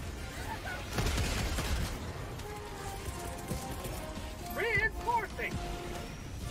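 Orbital strike explosions in Helldivers 2 come as low booms and bursts of gunfire amid steady battle noise, with radio-style voices and chatter talking over them.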